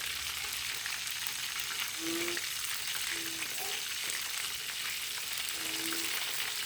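Chicken drumsticks fry in hot oil with a dense, continuous close sizzle and crackle at an even level, with faint brief tones and no voices.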